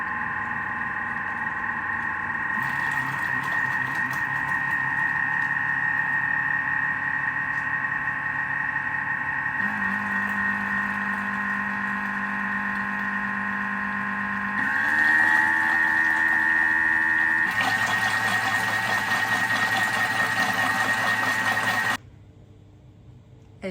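An electric mixer whirs continuously while beating cake batter, its motor tone stepping up in pitch and loudness as it rises through the speeds to 4, then cutting out near the end. It sounds steady and close, with no speech.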